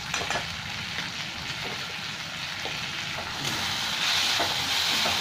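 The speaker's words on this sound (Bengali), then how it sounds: "এবার এই মশলাগুলো একটু ভালো করে আমি ভেজে নিচ্ছি।" Ground spices, chilli powder and roasted coriander and cumin, fry in a pan for ghugni, giving a close, dense sizzle with stirring scrapes that grows louder toward the end.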